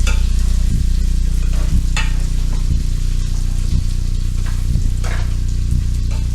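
Chicken adobo frying in a pan while being mixed: a loud, steady sizzle with regular scraping stirs about once a second, close up and without voices.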